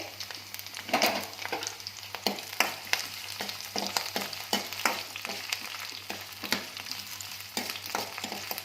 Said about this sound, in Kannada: ಈ ಟೊಮೊಟೊ ಈರುಳ್ಳಿ ಸ್ವಲ್ಪ ಚೆನ್ನಾಗಿ ಹುರ್ಕೋಬೇಕು ಎಣ್ಣೆಯಲ್ಲಿ